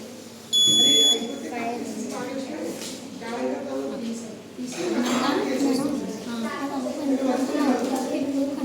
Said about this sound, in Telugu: సో ఇక్కడ చూడండి ఇక్కడ బజర్ ఆన్ అవుతుంది.